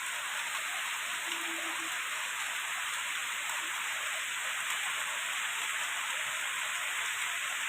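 Heavy rain pours over Sylhet as a constant, dense roar of falling water, steady and unbroken from start to end, with no voices.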